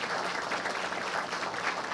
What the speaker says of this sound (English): please give a quick round of applause for our Nikki Rowe Faculty Jazz Ensemble